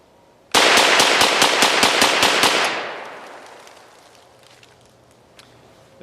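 A Pivot ultra compact folding 9mm rifle fed from Glock magazines fires a rapid string of about a dozen sharp, loud shots outdoors, then the echo rolls away into quiet.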